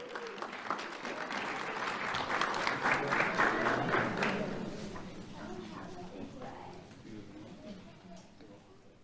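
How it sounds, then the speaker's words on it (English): Applause from an audience at a sheriff's office youth awards ceremony, a steady clapping swell that peaks in the middle and fades, with some murmuring under it. "Let's have a round of applause for Lavincia Tarver."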